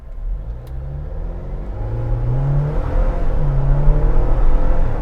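A 2020 Jeep Wrangler Unlimited Rubicon with the 2.0-litre turbocharged engine accelerates hard, its engine note climbing steadily through the gears as the rumble grows louder and closer, with no talking.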